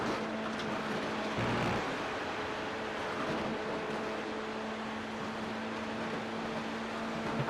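An F3 race car drones down the straight at Spa in an iFormula sim racing series, a steady high engine whine holding constant pitch throughout, close and continuous with no voices over it.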